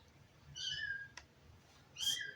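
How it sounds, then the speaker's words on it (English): Two separate cat cries sound from outdoors, a wavering yowl followed after a pause by a sharper, louder meow, with a brief click between them. "You can hear the cats outside screaming."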